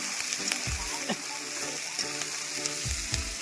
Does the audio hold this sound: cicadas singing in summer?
no